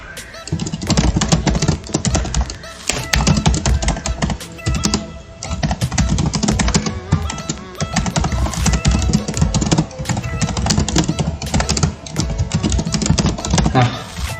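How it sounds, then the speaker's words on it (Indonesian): Fast, continuous typing on a computer keyboard while building a basic HTML and CSS web page, with dense clicking keys running steadily throughout at close range. "mau mengetik apa saja di sini."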